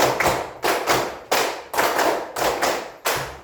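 A classroom clap game by pupils: sharp unison hand claps in distinct rhythmic bursts, each group a quick flurry of claps followed by a short pause, close and fairly loud.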